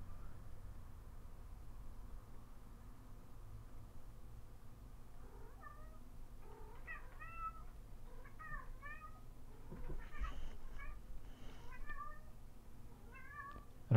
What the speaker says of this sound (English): I don't know if you can hear that, my cat is making noise.